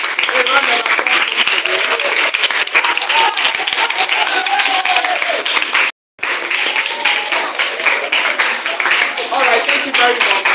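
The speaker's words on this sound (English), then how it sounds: "let's put our hands together once again. A round of applause." Sustained audience clapping and applause fills the room at a live nominee showcase event, dense and steady, broken by one brief silent gap before resuming at full strength.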